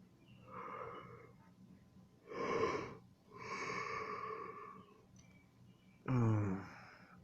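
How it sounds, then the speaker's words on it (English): A person yawning repeatedly: several long, drawn-out breathy inhalations and exhalations close to the microphone, the last one rising into a voiced, groaning yawn. "I'm yawning too much"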